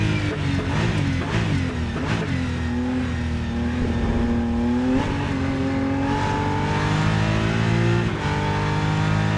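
A race car of roughly 400 to 500 horsepower in the racing game Rennsport, its engine droning and revving loudly and continuously, pitch climbing and dropping through repeated gear shifts with no voices.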